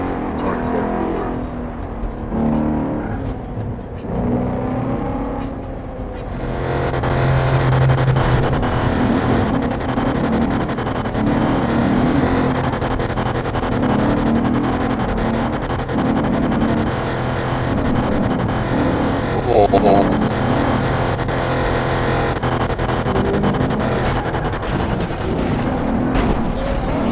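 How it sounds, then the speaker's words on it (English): A car engine in a video game drones and revs continuously with shifting pitch, while people talk over it throughout. "Are you driving in first person with a car this snappy?"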